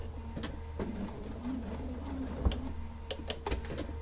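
A sewing machine restitches and backstitches the end of a quilt seam, a low motor hum under a series of sharp, closely spaced mechanical clicks and taps, near and steady with no talking.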